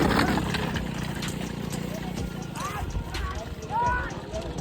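Hooves of racing bullocks pounding along a road at a rural bullock cart race, a dense rapid clatter under loud crowd noise and shouting voices, with a few high calls rising over the din.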